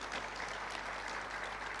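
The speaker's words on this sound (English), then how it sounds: "Can we give him a round of applause?" A graduation ceremony audience gives a round of applause, steady continuous clapping from a large crowd in a hall, moderately loud and unbroken.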